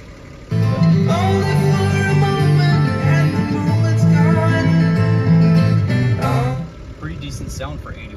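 Music from the factory radio in a 1987 Jaguar XJ6 Series 3, playing steadily and fairly loud inside the car, with a harmonic, tonal texture before it cuts off near the end, leaving a brief softer tail.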